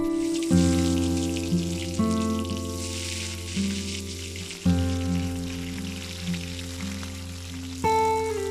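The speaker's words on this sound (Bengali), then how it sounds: "গরম কড়াইয়ে টুকরো করে কাটা আলুগুলো দিয়ে দেব।" Potato pieces sizzle in a hot wok for coconut-milk alur dom, a soft crackling hiss sitting beneath loud sustained tonal notes that start and change in steps.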